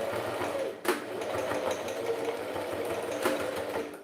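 Sewing machine making reinforcing backstitches on fabric for a wine holder, a close, steady mechanical whir with a couple of sharp clicks as the stitch direction changes.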